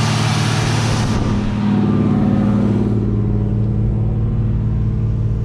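A high-performance 440 V8 idles steadily during flat-tappet cam break-in, a loud, close, even rumble with strong low harmonics that settles slightly smoother partway through, no talking.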